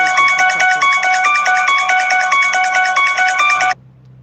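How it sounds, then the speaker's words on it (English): A phone ringtone plays loudly and close as a bright, repeating electronic melody that stops abruptly after almost four seconds. "that's my ringtone"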